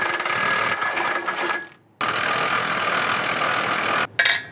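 A cordless impact wrench removes exhaust bolts on a 2014-2018 Silverado/Sierra with a 5.3L or 6.2L engine, two close, loud bursts of rapid rattling hammering separated by brief pauses, with a short final burst.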